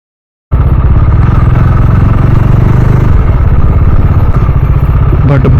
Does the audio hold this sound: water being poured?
no